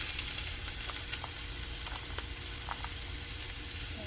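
Chopped onion sizzling in a hot pan for veggie burger patty melts: a continuous loud sizzle and hiss with scattered small pops, no talking.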